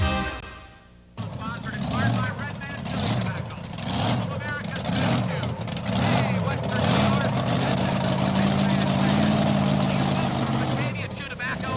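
A Ford two-wheel-drive pulling truck with a Chevy engine roars through a tractor pull run in Hamburg, NY, its engine surging and bellowing loudly for several seconds as an announcer talks over it.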